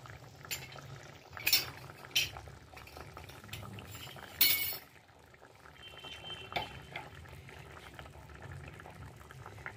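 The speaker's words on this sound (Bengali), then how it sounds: "আলুটা সিদ্ধ হয়ে গেছে, এবার ফুলকপিগুলো দিয়ে দিচ্ছি।" A potato and cauliflower curry bubbles and simmers in a pan on medium to low heat as cauliflower florets go in, with a few sharp clinks of a spoon against the pan over the steady boil.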